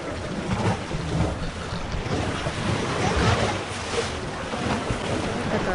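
Red Sea surf washing onto the shore at Sharm El-Sheikh, Egypt, a steady broadband rush of waves close by with wind buffeting the microphone throughout, no voices.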